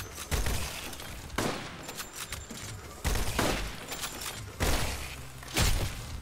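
A Volca big gun tap-fired in the Roblox game Decaying Winter, about half a dozen separate loud blasts at irregular intervals, each with a short ringing tail, no voices.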